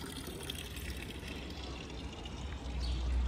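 A water fountain splashes and pours steadily in a Swiss lakeside town, a continuous close rushing wash that swells slightly toward the end, with no voices.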